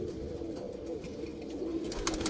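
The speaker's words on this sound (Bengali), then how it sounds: "তো আজকে আমি আমার কবুতরগুলার গোসল দিলাম।" Pigeons cooing during a bath on a hot day, low rolling coos repeating close by over a soft watery background, with no speech.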